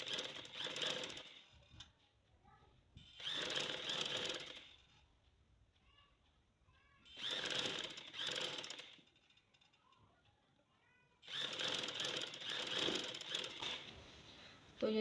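A sewing machine stitches lace edging onto fabric in four separate runs of rapid, steady whirring, with quiet pauses between them where the cloth is handled.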